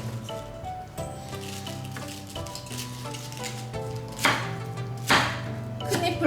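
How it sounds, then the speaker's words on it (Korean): Cabbage being cut into bite-size pieces for a Korean cucumber-cabbage salad, a few knife strokes on a board over steady background music, with two louder chops near the end. "이렇게 한입 크기로 썰어서"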